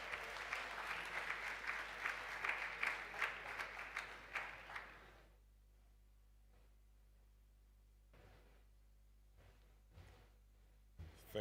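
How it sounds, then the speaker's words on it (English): Conference audience gives a loud round of applause for a keynote speaker at a tech gathering, dense clapping for about five seconds before it stops abruptly, leaving near silence with a few faint knocks and distant claps. "Can I have a big round of applause for the big man"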